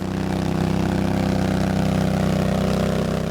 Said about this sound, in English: It's a Briggs & Stratton Vanguard engine